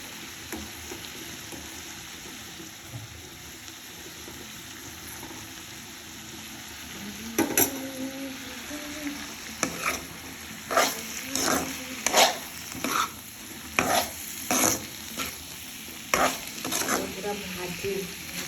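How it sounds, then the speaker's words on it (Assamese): Lentils stir-fried dry in a pan, with a quiet steady sizzle and a series of sharp scraping stirs in the second half, each stroke distinct and fairly close. "পুৰা ভাজি দালি"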